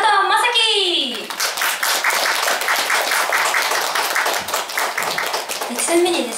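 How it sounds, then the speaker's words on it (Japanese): An audience claps to welcome performers to the stage, with many hands in a steady, rhythmic beat after a voice speaks; speech returns briefly as the clapping dies away. "皆様拍手でお迎えください"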